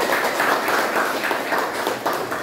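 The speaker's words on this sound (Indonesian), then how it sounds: "Tepuk tangan untuk kelompok satu." Applause for the first group in a classroom teaching session, a steady, dense patter of many hands clapping together, fairly close and sustained throughout with no talk over it.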